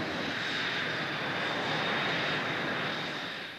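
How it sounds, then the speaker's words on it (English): An F/A-18 Hornet jet flies past with a steady, broad engine roar that swells slightly and then begins to fade, with no voices over it. "first Hornet flight begins."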